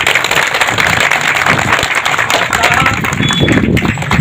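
A crowd of traders at a peace march protesting demolished shops claps steadily and loudly outdoors, the clapping dense and continuous throughout.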